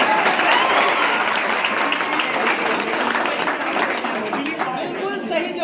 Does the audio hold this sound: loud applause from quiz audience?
yes